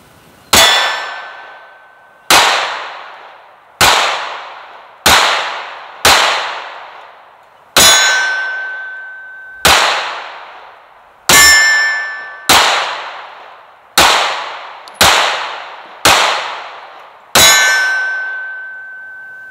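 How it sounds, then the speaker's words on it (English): Pistol shots from a Taurus GX4 XL striking AR-500 steel targets, a dozen sharp metallic clangs with long ringing decays, evenly spaced and heard from near the target. "I'm gonna leave the camera over here at the target so you can see the steel that we're ringing over here"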